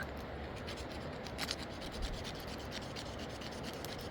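Steady scraping and rubbing of a small fire-starting tool against a rod, raising shavings; a continuous close rasping texture with a few sharper scratches, no talk.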